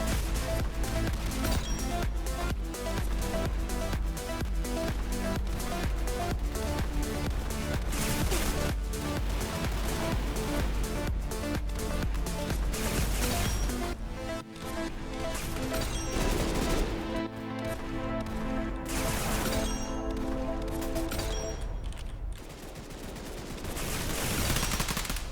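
Rapid automatic gunfire in a shooting video game recoil test, dense continuous bursts close and loud, with a short pause and a few shorter volleys near the end.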